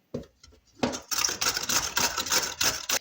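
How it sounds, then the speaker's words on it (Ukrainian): A carrot rubbed over a coarse grater, with a few brief knocks followed by a fast, steady run of rasping scrapes, close up and fairly loud, with no voices. "А морквину натру на велику терку."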